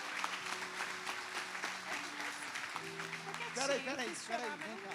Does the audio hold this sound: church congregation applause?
yes